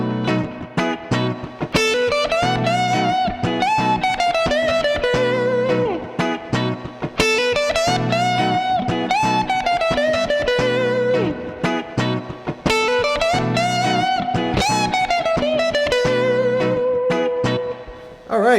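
Distorted electric guitar runs through a blues rock lick with hammer-ons and chromatic notes, loud and sustained, repeating the phrase about three times with no talking.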